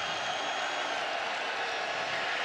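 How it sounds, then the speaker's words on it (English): Stadium crowd at a night college football game between Duke and Louisville at Papa John's Cardinal Stadium roaring on a third down, a broad, steady wash of cheering and clapping. "the crowd gets loud on a 3rd down and 10"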